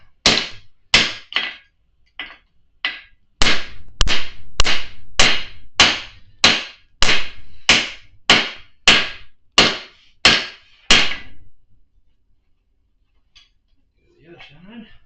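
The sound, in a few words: hammer striking metal on an anvil while forging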